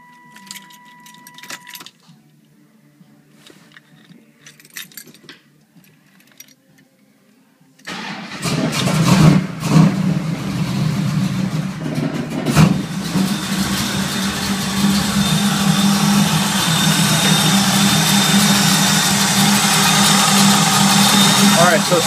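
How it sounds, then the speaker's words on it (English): A Camaro engine cranks and catches, then settles into a steady, loud idle after a quiet stretch with keys jangling, the car jacked up in a garage after a power steering cooler install. "Get in there and start her up and warm it up"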